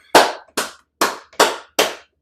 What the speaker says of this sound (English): Clap your hands. Clap the backs of the hands.